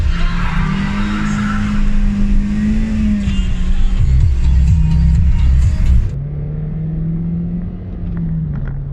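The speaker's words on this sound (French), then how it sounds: "Carrément, on a fumé les pneus." A 2003 Toyota Yaris TS with a 1.5 VVT-i 105 hp engine accelerates hard while its tires spin and smoke, a loud steady engine drone with scrubbing tire noise that eases off after about six seconds.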